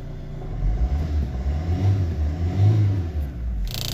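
A Maruti Swift diesel engine with a low boost pressure fault revs and rumbles steadily up close, with low throaty surges and no talking.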